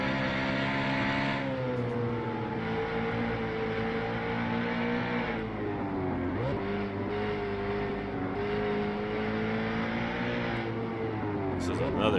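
A V8 Supercar in a sim racing game, running at Cape Cod on Hankook tyres, holds a loud, steady engine drone with the throttle worked up and down, pitch rising and dipping in waves, and a brief lift near the middle.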